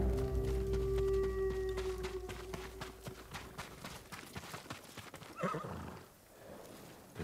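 Samurai horses in Ghost of Tsushima give a loud, tonal neigh at the start, followed by a run of hoof clip-clops on the ground that gradually fade. A brief rustle comes near the end.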